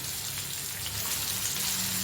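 Halwa fish sizzles gently in a pan over a low gas flame, a soft, continuous crackle and hiss with no voices.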